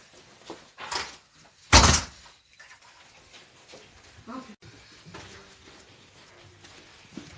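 A door swings shut indoors with a sharp, loud thump near the start, then a quieter clunk follows amid soft room noise and faint voices.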